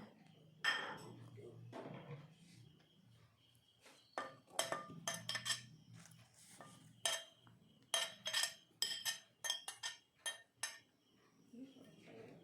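Chopped vegetable pieces clatter and tumble into a metal pressure cooker in repeated bursts, with sharp clinks against the sides and quiet moments between.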